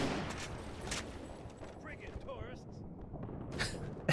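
Gunfire in a video game, scattered bursts of shots at moderate distance mixed with game effects, with a person talking over them.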